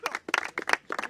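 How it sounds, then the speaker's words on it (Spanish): Applause at a Spanish-language freestyle rap battle in Santa Fe, with a few quick bursts of sharp, close clapping in an uneven rhythm. "Un aplauso para ti."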